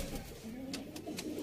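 A Sialkoti pigeon cooing softly in a low, gentle murmur, faint and close, with a few brief rustling sounds over quiet background.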